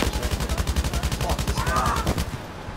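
Rapid automatic gunfire in a war video game rattles continuously in fast, even bursts, loud and close, with a brief higher whistling tone partway through.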